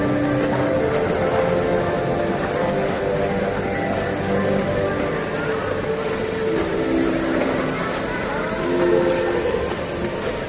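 A cable car or chairlift runs at the Trans Snow World indoor snow park in Bintaro, giving a steady, loud mechanical hum and rumble with rail-like drone that continues without a break and swells slightly near the end.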